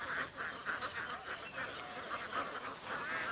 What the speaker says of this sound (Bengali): তিনিও নিয়ে আসছে কিছু হাঁস